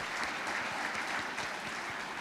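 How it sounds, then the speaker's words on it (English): An audience applauds steadily after a speech at a formal ceremony, a dense, even patter of many hands clapping that continues throughout without any talking over it. "请各位舍友给他热烈的掌声来感谢他的演讲。"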